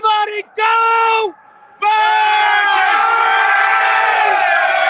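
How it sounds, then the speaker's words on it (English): Loud crowd of Eagles fans at a Super Bowl championship parade outside City Hall, roaring and chanting in two short bursts, then a long sustained cheer right up close. "So that's our crowd at City Hall behind me."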